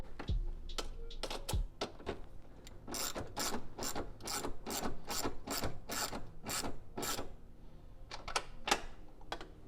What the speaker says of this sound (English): I'm going to do a 10mm at the top and a 10mm wrench underneath.